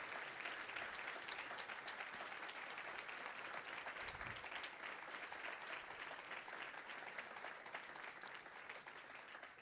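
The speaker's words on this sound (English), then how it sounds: "please join me in a round of applause" Sustained applause from a conference audience at a closing session thanking staff and partners: a dense, even wash of many hands clapping, somewhat distant and soft, continuing for nearly ten seconds.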